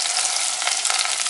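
A tempering of curry leaves fries in hot oil in a pan for tomato thokku, giving a loud, close, continuous sizzle with crackling pops and no voices.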